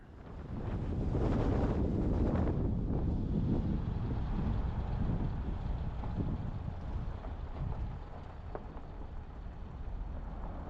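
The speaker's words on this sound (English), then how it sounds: "the wind is really picking up" Steady wind buffets the microphone in a low, rushing roar on an off-road trail in Hualapai Mountain Park near Kingman, Arizona, gusting strongest early on and then easing slightly, with no voices.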